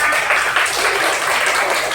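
Loud, continuous clapping from a group of elementary school children during a physical education lesson, many hands blending into one steady roar.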